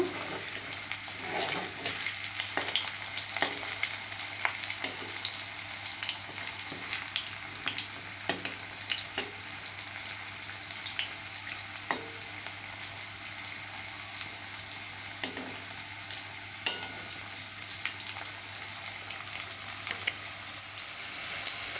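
Pea snacks (motor kalai) fry in a pan with a steady, hissing sizzle, broken by frequent light scrapes and clicks as they are turned, close and continuous throughout.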